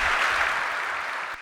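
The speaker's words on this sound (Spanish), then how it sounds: "Fuerte el aplauso, muchas gracias." Applause from a large audience at an industrial engineering conference, dense steady clapping filling the moment and fading slightly at the end.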